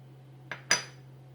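Two quick scraping clinks of a utensil against a bowl while dry pizza dough ingredients are stirred together, the second louder, over a low steady hum with no talking.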